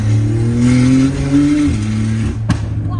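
A 900-horsepower car engine revving hard, a loud close rising whine that holds high then drops back, ending with a sharp click.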